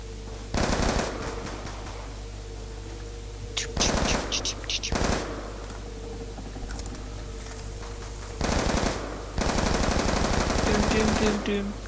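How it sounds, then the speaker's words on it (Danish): Video game gunfire from shooting zombies in Call of Duty: Black Ops 2: loud bursts of automatic fire in several separate volleys, with quieter game sounds and a steady hum between them. "jeg stod lige og skød lidt zombier herovre"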